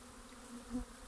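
A swarm of honeybees makes a soft, steady drone at the narrowed entrance of a hive during their spring cleansing flight, heard alone and fairly faint.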